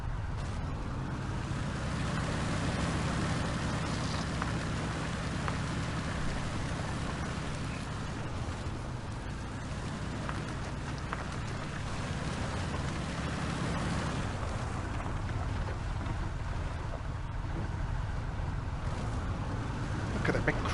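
A Rising Sun tractor engine runs in Spintires MudRunner on The Ridge map: a steady, deep, loud rumble with a broad hiss that holds for the full twenty seconds.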